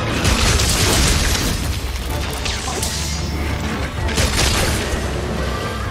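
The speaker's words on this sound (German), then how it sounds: "Und schon wieder explodiert." Explosions boom in the video game Monster Hunter Rise during a high rank fight with Lagombi and Khezu, a sustained loud roar of blasts and crashes with two sharper bursts near the start and end.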